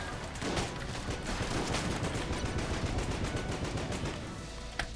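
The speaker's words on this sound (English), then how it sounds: "That's a lot of explosions." Rapid bursts of gunfire and blasts in the video game Enter the Gungeon crackle densely and continuously, loud and close, with one sharp louder hit near the end.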